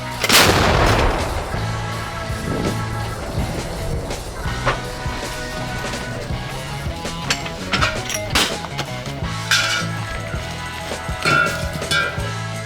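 Heavy booming gun blasts ring out, one large report at the start followed by several more scattered shots and rumbling echoes at a distance.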